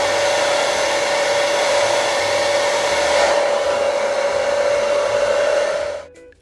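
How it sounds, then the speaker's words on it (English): A T3 blow dryer runs continuously while drying hair, a loud steady whooshing roar with a fixed whine, close to the mic, cutting off abruptly at the end. "I just use my T3 blow dryer"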